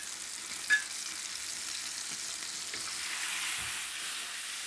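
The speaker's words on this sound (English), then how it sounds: "we're gonna take the rest of our onions, garlic, and marinade and throw it in the pan." Onions, garlic and marinade for spicy chicken thighs sizzle in a pan as a steady, moderately loud hiss, with one brief clink near the start.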